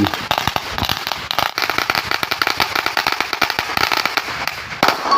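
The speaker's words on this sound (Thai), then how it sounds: "จุดประทัดเอาเรื่องเอาใช้กันเลย" Firecrackers going off in rapid, dense crackling bursts near a mountaintop in Thailand (Khao Khan Mak), a loud continuous string of sharp pops filling the whole stretch with no talk.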